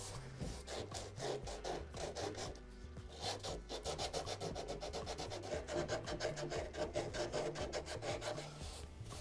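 Coarse 80-grit sandpaper scrubs steadily back and forth along a wooden guitar neck, a continuous close rasping with an even rhythm and no voices.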